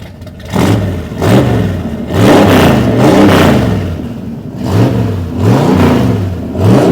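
A 1966 Ford F100 pickup with a 428 FE V8 revs repeatedly during camshaft break-in. The deep engine rises and falls in several close, loud surges with no talking.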